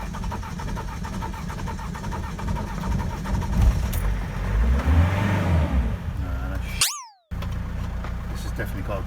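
A campervan's diesel engine cranked and catching after a cold night, a rising churning start that settles into a rough, close running note before cutting out abruptly, with speech heard during it.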